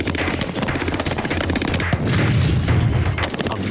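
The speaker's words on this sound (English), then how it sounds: "They are firing light machine guns, M16, and live M26 grenades." Marine training range where light machine guns, M16 rifles and live M26 grenades are being fired, heard as dense, continuous rattling gunfire with overlapping shots and low booms, loud and unbroken throughout.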